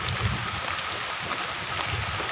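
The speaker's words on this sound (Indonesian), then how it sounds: "Hujan lebat, guys." Heavy rain falling outdoors during bad weather, a steady, broad hiss of downpour with scattered drop impacts, moderately loud and unbroken, with no voices.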